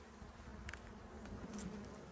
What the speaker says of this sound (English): I think these bees are building up on goldenrod